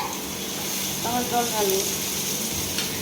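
Bottle gourd and potato sauté in a pan with a soft, continuous sizzle heard close by, while a voice talks briefly partway through.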